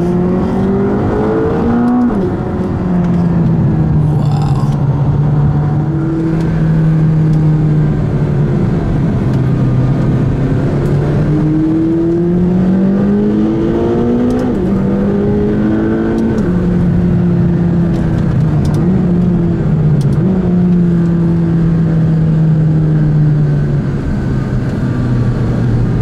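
A McLaren 570GT sports car engine pulls hard while driving up a volcano road, revving loudly through repeated rising sweeps with gear changes, close and continuous with no talk.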